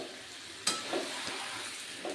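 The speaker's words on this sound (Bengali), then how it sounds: "এবার ভেজে রাখা আলু, কুমড়ো এবং টমেটো সয়াবিনটা দিয়ে দিলাম, দিয়ে এবার এটাকে ভালোভাবে কষে নিতে হবে।" Potato, pumpkin, tomato and soy chunks fry on a high gas flame, giving a steady close sizzle broken by a few stirring scrapes and clinks.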